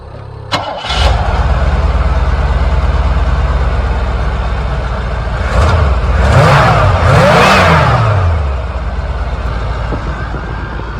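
A 1986 Cadillac engine cranks with a sharp click, catches and settles into a steady, smooth idle, with a couple of rising revs midway, close and loud throughout with no talking.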